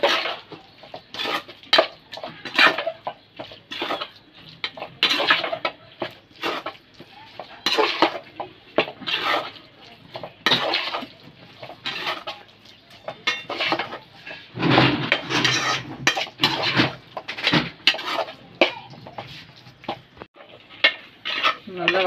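Spices, bay leaf, ground cardamom and chili powder being stirred and sautéed in a pot for mutton biryani, with a busy, continuous clatter of a spoon scraping the metal pot and soft sizzling throughout, no talk.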